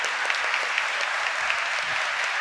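An audience at a book presentation at the FIL Minería fair gives a sustained, dense round of clapping, steady and fairly loud throughout with no voices above it.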